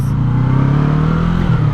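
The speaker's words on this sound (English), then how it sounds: "It revs very fast, and it revs pretty high" A 2020 Yamaha MT-03 motorcycle engine revs close and loud in a steady, throbbing burst, its pitch climbing slightly before easing.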